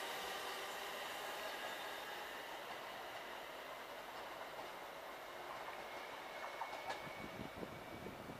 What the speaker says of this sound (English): we'll catch this train on her departure